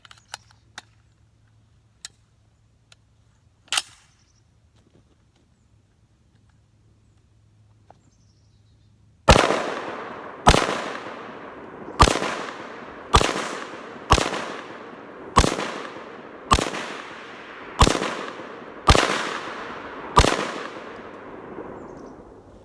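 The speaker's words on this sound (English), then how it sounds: "So let's do some shooting." A 7.62x39 AR rifle fired with a ten-round magazine at cans: after quiet with a low hum and a few faint clicks, ten loud, close, sharp shots ring out at a steady pace about a second apart, each trailing off in a brief echo.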